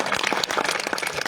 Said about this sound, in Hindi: एक दफा मेरी रिक्वेस्ट पे भरपूर तालियां बजाइएगा